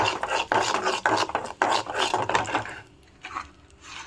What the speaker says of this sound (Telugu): ఒక హాఫ్ స్పూన్ చాట్ మసాలా వేసుకున్నాను మొత్తం ఒకసారి కలుపుకుందాము